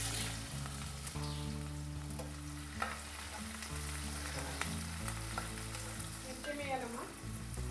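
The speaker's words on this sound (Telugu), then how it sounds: "సాజీర ఒకటి తర్వాత ఉల్లిపాయలు వేయాలి" Cumin seeds (shahi jeera) and onions fry in oil for a home-style chicken curry, giving a steady loud sizzle with clatters of stirring throughout and no talking.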